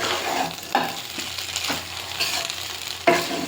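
Maggi noodles sizzle and fry in a pan, with a steady crackling hiss broken by a few louder stirring scrapes, close and alone with no talk.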